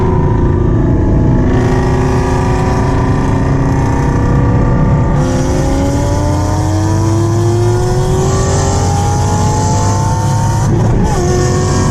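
A loud Dodge Hellcat engine with a 426 Hemi runs hard and revs up through gear changes, its pitch rising steadily and dropping between shifts, with no talking.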